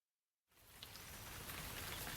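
Rain begins abruptly after a moment of silence, then settles into a steady, dense hiss of falling drops on a warm day, continuous and fairly close, with no voices.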